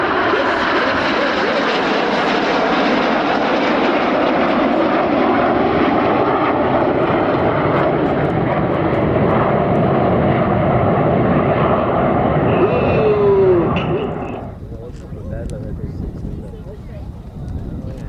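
Red Arrows display jets flying at the Sywell air show, giving a loud, sustained engine roar. An announcer commentates over the noise, and the roar fades sharply toward the end.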